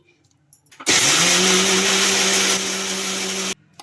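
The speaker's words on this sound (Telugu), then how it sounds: "ఇంకా వాటర్ అయితే వేసుకొని గ్రైండ్ చేసుకోవడమే" A mixer grinder whirs loudly and steadily for about three seconds, grinding curd dosa batter with water, starting abruptly and cutting off just as suddenly, close up.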